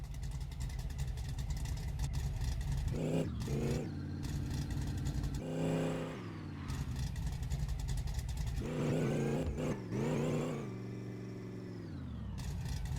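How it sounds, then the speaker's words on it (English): An off-road wagon's engine running on a dyno in a garage, a loud, steady mechanical roar that rises and falls as it revs, with a few brief shifts in pitch and no speech over it. "Love it when my vehicles start"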